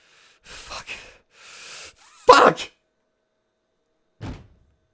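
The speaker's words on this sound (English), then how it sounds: "slammed my fist into the door with a loud bang" In the Chaos;Head Noah video game, a fist slams into a door in one loud, sharp bang, preceded by a few breathy sighs and followed by a fainter knock after a pause.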